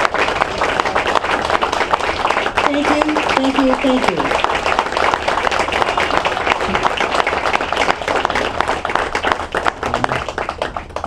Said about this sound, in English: having every administrator in the room stand to receive our applause